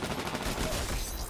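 Automatic firing of the Amped shotgun in the Titanfall video game, a dense continuous roar of rapid blasts with no gaps, loud and close for about a second.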